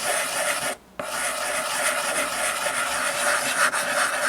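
Miniature dollhouse wood is filed and smoothed by hand with steady close rasping strokes, broken by a brief pause near the start, with no talking.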